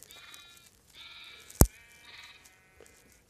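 Sheep in a video game bleat several times in a row, with bright harmonic calls and a brief sharp click partway through, all at moderate volume with no talking.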